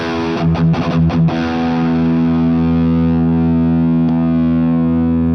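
A Mooer GTRS M810 electric guitar on its original GTRS modelled pickup tone: a distorted chord rings out after a few quick picked strums, sustaining loud and steady with a thick, saturated tone and no talking.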